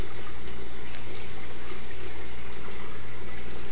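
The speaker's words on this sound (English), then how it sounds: "So I have my half a cup of cold water. I'm just going to pour that into the mix." Half a cup of cold water poured into a bowl of dumpling dough mix, a steady close liquid pour with a continuous watery wash and no talking.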